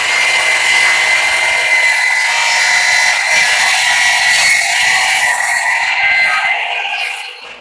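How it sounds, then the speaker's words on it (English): A chop saw makes miter cuts across the corners of an oak board for a wooden box. The motor's loud, steady whine holds almost unbroken for about seven seconds, then fades as the blade spins down. "Using the chop saw to miter cut the corners of my board."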